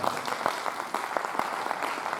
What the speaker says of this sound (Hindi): उस संत के नाम पर ही तालियों की गड़गड़ाहट हो जानी चाहिए साहब